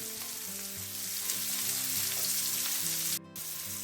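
Chicken liver and chorizo frying in a pan make a steady, close sizzle throughout, with a brief dip near the end.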